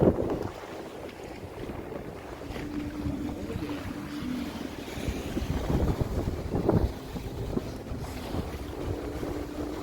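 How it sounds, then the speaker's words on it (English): A sailboat cruising on a reach at about five knots gives a steady rush of water along the hull, with wind buffeting the microphone and a few louder splashes. "Cruising along. Team reach 5 knots or so, having fun."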